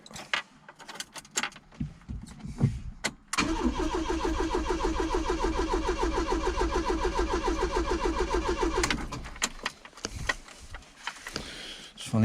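A car engine with the choke pulled out cranks and catches after a few sparse clicks and knocks. It settles into a steady, rhythmic mid-pitched running for about five seconds, then cuts back to scattered clunks, heard up close.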